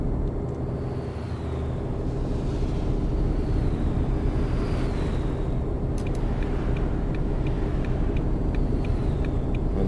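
Heavy truck engine in American Truck Simulator droning steadily under a constant low rumble, with a brief dip as it shifts up a gear, then pulling on with faint higher whines and clicks over the road noise.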